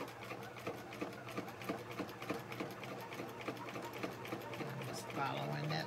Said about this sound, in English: I'm going to go ahead and start sewing.